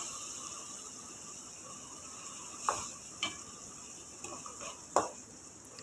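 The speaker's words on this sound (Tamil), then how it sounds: "அந்த பேஸ்ட்டை வந்து இதில் ஆட் பண்ணுறோம்" Ground masala paste with chicken sautéing in a pan for chicken gravy: a soft, continuous sizzle under occasional sharp scrapes and clinks of a spoon stirring against the pan.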